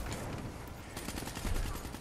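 Gunfire rattles through a first-person shooter match on the map Rift, a steady burst of rapid shots layered over dense game noise at moderate loudness, with no talk.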